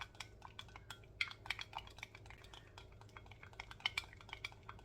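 Quick, light clicks and taps of a small utensil stirring a face pack mixed with raw perilla oil in a little bowl, an irregular close rhythm of soft clinks at low volume.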